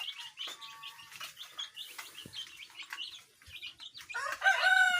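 Brown Dekalb chickens and small chicks in a cage give soft clucks and frequent high peeping chirps, scattered and close, with the chick calls growing louder toward the end.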